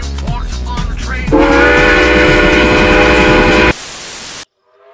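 A Southern Railway 4501 steam locomotive sounds a loud, close, multi-chime whistle in one sustained blast of about two and a half seconds, preceded by rumbling train noise and followed by a brief harsh burst before cutting to quiet.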